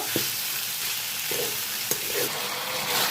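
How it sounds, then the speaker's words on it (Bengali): Tomato sautéing with potatoes and vegetables in a pan for a drumstick poppy-seed dish, a constant soft sizzle with a few sharp clinks and scrapes of a spatula against the pan. "একটু টমেটো ছিল সেটাকে আমি দিয়ে দিলাম এর মধ্যে এটাকে একটু কষিয়ে নেব"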